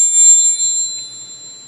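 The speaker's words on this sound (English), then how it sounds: "when I hear the bell, it helps me focus" A single bell rung to aid focus rings out brightly and sustains with pure, steady overtones, then fades slowly over a quiet room, with no voices.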